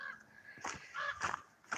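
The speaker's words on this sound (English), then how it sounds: "It's a raven." A raven calling outdoors on a trail walk, giving about four harsh, croaking caws spaced irregularly, moderately distant and fairly faint over quiet background, with no talking.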